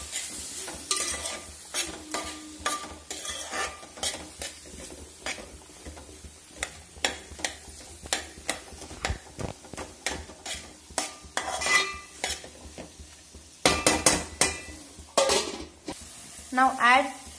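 Tomato rice stirred and scraped in a pan, with repeated sharp utensil knocks and scrapes over a steady sizzle, loud and close, continuing in irregular bursts throughout.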